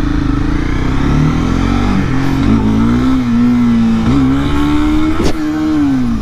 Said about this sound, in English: Pop the wheelie for like 2 seconds